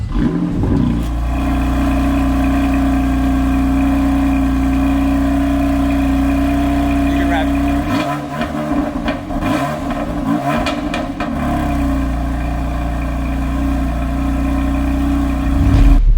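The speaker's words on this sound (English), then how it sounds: "let's start up this M Performance exhaust and see what it sounds like" A BMW M4 Ultimate Package with an M Performance exhaust idles with a deep, steady exhaust drone, revs sharply a few times in the middle, then settles back to a rumbling idle.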